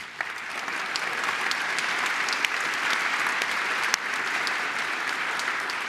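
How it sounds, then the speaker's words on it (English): An audience at a talk gives a sustained, even round of applause, many hands clapping densely at steady loudness for about six seconds with a few sharper claps standing out. "can we just have a round of applause for one person in particular?"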